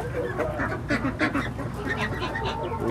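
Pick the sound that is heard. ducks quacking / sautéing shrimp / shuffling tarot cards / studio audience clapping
ducks quacking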